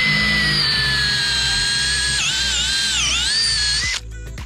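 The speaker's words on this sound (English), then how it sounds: "Starting to drill out for these lights. Got this nice little Forstner bit" A power drill spins a Forstner bit into deck boards to bore holes for deck lights, a loud steady whine with pitch dips as the bit bites, then spinning down abruptly near the end.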